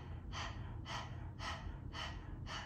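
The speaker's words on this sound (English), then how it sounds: "Now begin breath of fire, panting like a dog through the nose." Breath of fire in a yoga class: five sharp, evenly spaced nasal exhalations, quick panting bursts through the nose with soft room hum between them.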